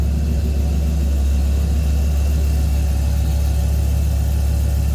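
A supercharged 2001 Dodge Viper GTS coupe idles close by with a steady, deep rumble that holds a constant low throb for the whole stretch, and nobody speaks over it.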